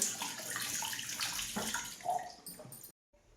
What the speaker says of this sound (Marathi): हे आवळे मी पाण्यामध्ये टाकले होते आणि आता हे पाणी काढून घेते